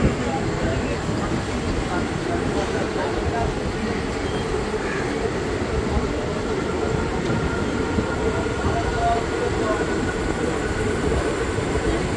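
Digha to Dakhineswar special passenger train pulling out of platform 2 at Bagnan station at night, a steady loud rumble of wheels and carriages throughout, heard from on board.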